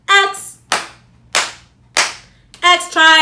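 Three sharp, evenly spaced hand claps keep a steady beat in a children's rhythm song about the T-Rex, with a sung or spoken voice right before and after them.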